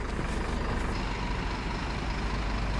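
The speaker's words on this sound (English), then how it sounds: "I suspect it's the one with the engine running." A bus idling with its engine running, a dense, steady diesel rumble heard close and loud throughout with no voices over it.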